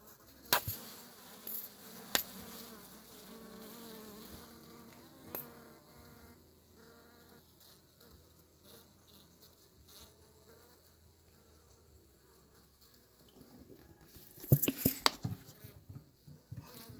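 Honey bees kept indoors in a bee room, fed a teaspoon of honey each morning, buzz in a steady low drone close by, with a few sharp knocks and a louder burst of rustling near the end.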